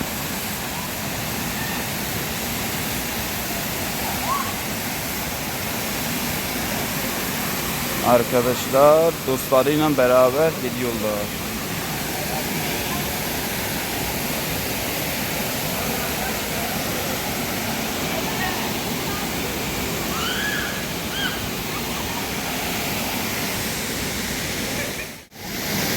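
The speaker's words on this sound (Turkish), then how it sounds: "Abi tam şelalenin tam dibine geldik" Steady broadband roar of Elfelek waterfall near Lake Hazar, close by at its base, constant throughout, with someone talking briefly over it partway through.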